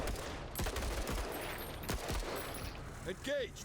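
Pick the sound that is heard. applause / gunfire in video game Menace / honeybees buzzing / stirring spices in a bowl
gunfire in video game Menace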